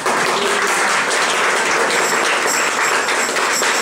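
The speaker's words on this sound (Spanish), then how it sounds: "Den un aplauso fuerte a Yahweh." A church congregation claps loudly and continuously, a dense, sustained wash of applause filling the room with no voices heard over it.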